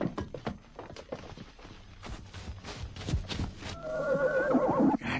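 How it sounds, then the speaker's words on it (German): Horse in a radio play, a quick run of clip-clopping hooves and footsteps building into a loud, close, wavering whinny near the end, with no talk. "Ja, da, mein Pferd."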